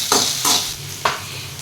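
Ginger garlic paste is stirred in a pan with a few short scraping strokes and a soft sizzle underneath, close and fairly loud, with no talking.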